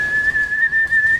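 Someone whistles a single loud, steady note held close to the microphone, wavering slightly in pitch with brief breaths between pulses.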